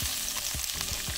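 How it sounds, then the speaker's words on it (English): Tomatoes dropped into a hot pan in a small van kitchen, a steady loud sizzle with a few soft stirring scrapes, no voices. "So we're just going to add the tomatoes in now. Put them in."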